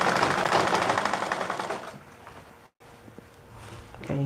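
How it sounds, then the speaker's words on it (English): A sewing machine stitches a simple elastic-waist skirt, its rapid needle chatter running loud and steady at first, then slowing and fading before a brief stop and a quieter restart. "Continue stitching."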